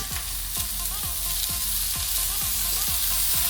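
Three cloves of minced garlic fry over high heat in a hot pan, a steady loud sizzle with a low hum, broken by regular stirring scrapes about every half second.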